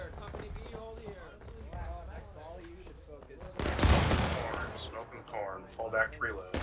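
Musket volleys in the War of Rights game, a burst of crackling shots around the midpoint rising loud over a steady background of voices and battlefield noise.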